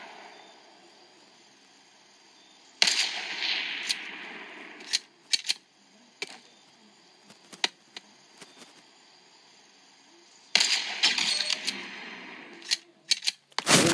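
Gunfire in the Fortnite video game: sharp bursts and scattered single shots, some loud and close, with quieter gaps between volleys.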